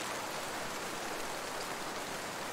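Steady rain in a video game falls as an even, soft hiss with no break, fairly quiet and with no voices.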